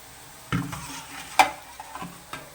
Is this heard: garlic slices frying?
yes